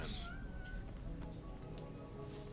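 A cat meows aboard a ship in the Death Stranding 2 video game with a drawn-out, rising-and-falling cry that comes once, moderately loud over a low engine-like hum.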